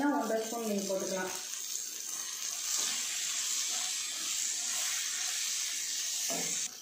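Water pours steadily with a hissing splash into a pan of drumstick and coconut milk curry after sizzling cooking noise, a continuous rush that stops abruptly.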